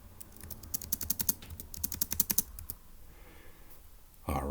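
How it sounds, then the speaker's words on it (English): Rapid bursts of keystrokes on a computer keyboard, close and crisp, in quick irregular runs for a few seconds before trailing off into quiet room tone. "let's go ahead and type that up"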